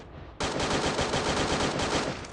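Rapid automatic gunfire from a machine gun in the Free Fire battle royale game, a loud, dense burst of repeated shots running steadily for about two seconds after a brief quieter lead-in.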